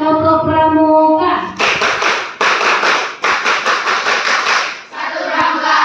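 A group of students claps the Indonesian scout clap, tepuk pramuka. The loud, sharp clapping comes in tight rhythmic bursts with brief pauses between phrases, framed by a voice before and after.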